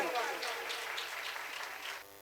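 Applause from a church congregation at a Palm Sunday service, a soft spread of clapping filling the space for about two seconds before fading, with a voice briefly heard at the start.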